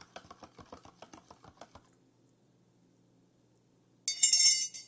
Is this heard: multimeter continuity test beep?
no